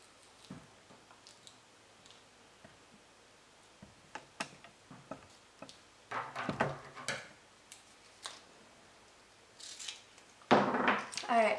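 Scissors snipping through elastic and double-sided tape while a DIY face shield is being made: scattered soft clicks and rustles that grow into louder, denser cutting bursts toward the end, with no voice over them.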